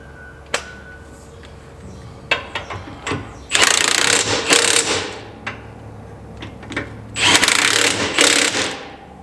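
A ratchet with an extension tightens a bolt in scattered clicks and short metallic bursts, with two longer runs of close, rapid ratcheting.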